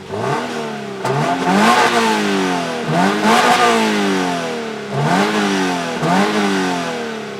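A 2023 Toyota GR86 with manual transmission and a larger-displacement engine revs repeatedly through its tailpipes, close up and loud, with several rising-and-falling throttle blips in a steady rhythm and no talking.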